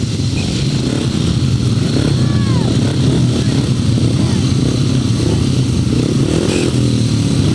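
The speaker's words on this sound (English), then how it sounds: "Solos, 500cc Solos, race 15, a win for number 15, Martyn Sturgeon." 500cc solo grasstrack motorcycles race past in a continuous loud engine roar at a speedway-style meeting, the drone steady and close throughout with a crowd and announcer's voice underneath.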